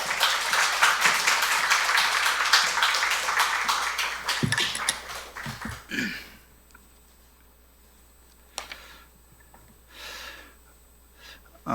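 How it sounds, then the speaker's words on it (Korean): A church congregation at a Sunday service applauds in welcome, a dense wash of many hands lasting several seconds before thinning out and fading into near quiet with a few scattered knocks. "우리 박수로 환영하도록 하겠습니다"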